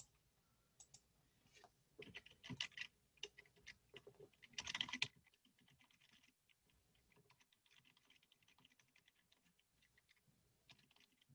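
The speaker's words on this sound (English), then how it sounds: "I will type it out here as well." Rapid clicking keystrokes on a computer keyboard, close but quiet, with bursts of fast typing early on and lighter intermittent taps afterward.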